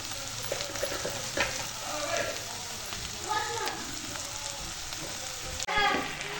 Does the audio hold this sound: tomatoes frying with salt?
yes